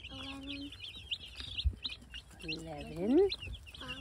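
Baby chicks peep in high, rapid chirps, clustered and repeating throughout, with an adult voice speaking briefly underneath at close range.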